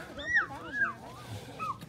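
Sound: dog whimpering

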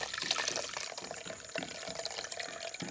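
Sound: water being drained off soaked lentils for Jaffna dosa

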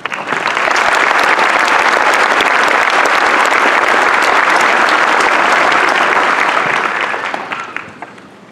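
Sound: applause

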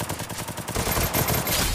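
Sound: gunfire in Free Fire video game

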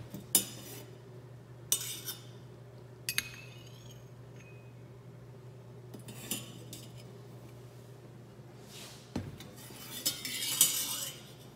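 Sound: stirring and scraping tea infusion during tea evaluation

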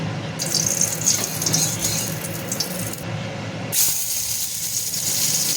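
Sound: heavy rain

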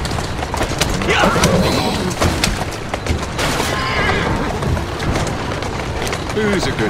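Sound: horse neighing in Assassin's Creed Syndicate video game

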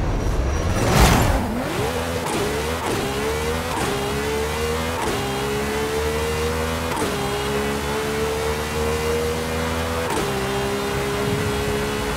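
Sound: Ferrari Enzo engine revving in video game Forza Horizon 5

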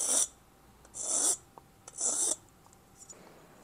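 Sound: fine tooth file filing a cut piston edge

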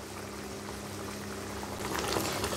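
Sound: okra tamarind curry boiling in a pot

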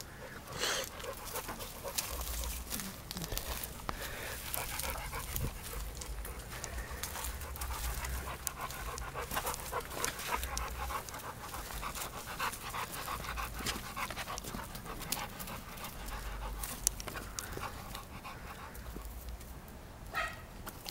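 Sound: dogs panting in kennels

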